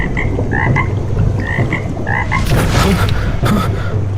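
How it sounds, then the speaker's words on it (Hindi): A frog croaks in short repeated calls, close and clear, over a steady hiss of outdoor background noise. "पीछे पानी में हल्की टर टर की आवाज हुई। एक हरे रंग का मेंढक"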